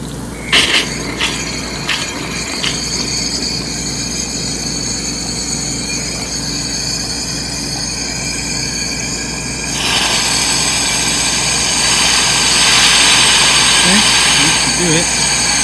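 Compressed air blasts residual water out of a short garden hose and its valve, a steady broadband rushing hiss that swells louder toward the end, with a few sharp clanks at the start.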